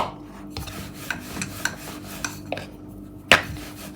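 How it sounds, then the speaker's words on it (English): Chapati dough is rolled out by hand on a board, producing soft rubbing strokes with light taps and one sharper click, close and quiet with no talk. "you start rolling it with really light hands"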